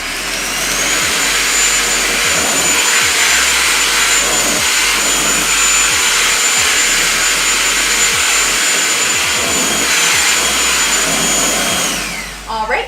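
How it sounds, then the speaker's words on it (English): A Kenmore DS1030 handheld vacuum cleaner, detached from its main unit, runs close and loud for about twelve seconds while picking up dirt from the floor. Its steady whine carries small rattling pickups and drops away at the end. "detach the handheld vacuum cleaner from the vacuum cleaner right here"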